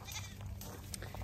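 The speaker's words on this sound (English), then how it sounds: "get in here and check on all the goats, see if Mama G had her babies" Goats on a farm bleating over a steady low hum, with several overlapping calls close by across a short, continuous stretch.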